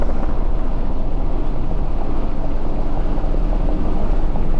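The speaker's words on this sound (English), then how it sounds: "All right, launch control in the new Dodge Charger Daytona. Little wheel spin off the line." A new Dodge Charger Daytona electric car launches hard under launch control with a little wheel spin, giving a loud, steady rush of road and wind noise at close range with no voices.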